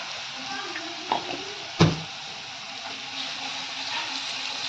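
Ginger-garlic and green chili paste sizzles softly in a hot pan for a vadapav chutney, a steady low frying hiss with a couple of brief spoon clinks against the pan.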